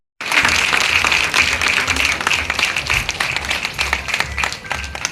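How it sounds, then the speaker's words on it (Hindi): An audience at a musical evening of film melodies breaks into loud applause welcoming a performer, starting abruptly and continuing as dense clapping that gradually loosens into more distinct claps. "जोरदार तालियों के साथ स्वागत।"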